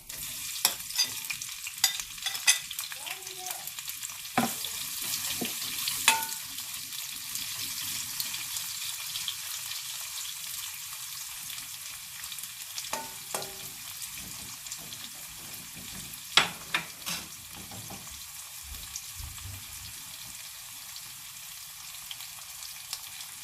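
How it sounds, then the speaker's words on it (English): Onions frying in a pan for a broad bean curry, meant for bunny chow, give off a continuous hissing sizzle with occasional clinks and stirring scrapes, heard up close with no talking. "that is sizzling. I add in the onions."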